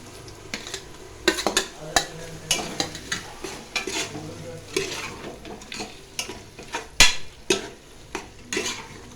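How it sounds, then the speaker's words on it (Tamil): Ground tomato and ginger-garlic paste are sautéed in a pan for mutton biryani, with a spoon scraping and clinking against the metal in irregular strokes over a soft sizzle, close by and without talk. "அடுத்து அரைச்ச இஞ்சி பூண்டு பேஸ்ட்டு போட்டு நல்லா வதக்கி விட்டுக்கலாம். அடுத்து அரைத்த தக்காளி போட்டுக்கலாம்."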